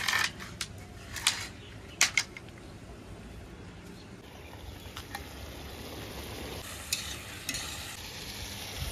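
Potatoes frying for Barpeta-style aloo bhaja, sizzling steadily in a pan while being stirred, with a few sharper scraping clinks of the utensil near the start and a louder stir around the middle.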